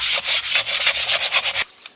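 Coarse sandpaper scrubs a canoe surface in rapid back-and-forth strokes, about a dozen rhythmic rasps close up that stop abruptly, followed by one faint final stroke.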